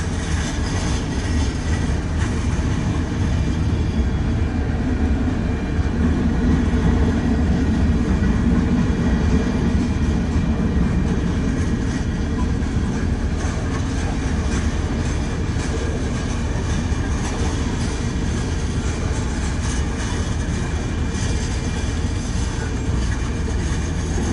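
A freight train hauling a Kansas City Southern (KCS) locomotive rolls past close by, a steady loud rumble and rattle of cars holding throughout with no break.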